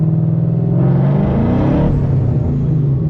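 A Paxton-supercharged Mustang GT makes a half pull with wheelspin, a loud close engine roar that climbs in pitch, peaks, then drops back to a heavy rumble.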